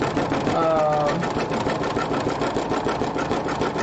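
A sewing machine stitches an embroidered rope bowl, whirring with a fast, steady mechanical chatter close by, with a brief voice heard near the start.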